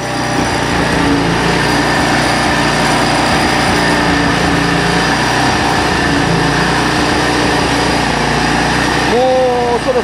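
A Shibaura FE601 hammer knife mower's engine runs close and loud at a steady, unbroken drone for the whole stretch, with no pauses in its even roar.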